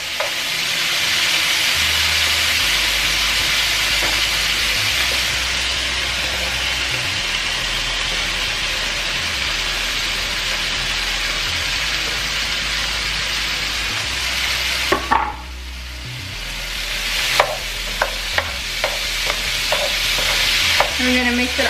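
Potatoes added to browned, crispy meat frying in a pan for Mexican carne con chile y papas, with a loud continuous sizzle and intermittent clacks and scrapes of a utensil stirring nearby.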